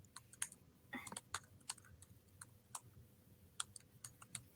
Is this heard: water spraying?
no